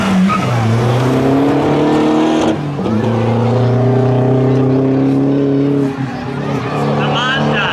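A 2015 Honda Accord street car launches at a drag strip at Oxford, its engine revving loud and close and climbing in pitch through the gears, with tires briefly scrabbling at the start.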